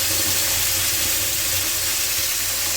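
Ground bottle gourd leaf paste frying in hot oil tempered with black cumin seeds, giving a loud, continuous sizzle and bubbling hiss close by, with no talking.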